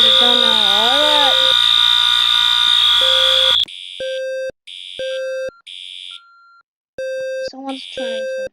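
A fire alarm blares continuously with a loud, harmonic warbling tone, then cuts into a run of separate electronic beeps of varying length. Speech is detected, though no words are transcribed.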